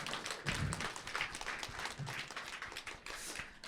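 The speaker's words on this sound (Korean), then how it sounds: "박수 치셔서 좋습니다." Live audience clapping at a Korean book showcase event, a steady dense patter of many hands lasting throughout, moderately loud with no talk over it.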